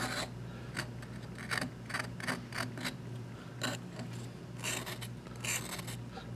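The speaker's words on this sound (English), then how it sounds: "using that edge of that screwdriver to get a hard edge" A screwdriver edge scrapes and carves into a cuttlebone in a series of short, rasping strokes with uneven rhythm, close and fairly quiet, with no voice.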